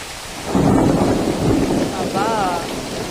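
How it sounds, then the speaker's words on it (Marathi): Heavy unseasonal rain pours steadily amid strong wind while a deep rumble of thunder rolls through, loud and close. "बघा आता किती जोरात पाऊस पडतोय"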